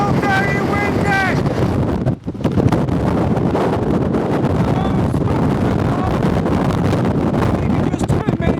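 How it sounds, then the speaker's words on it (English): Strong wind on the Pennine Way hiking trail in England, between Standedge and Blackstone Edge Reservoir, buffets the microphone with loud, constant roaring gusts throughout, and a voice speaks underneath. "it's still very windy!"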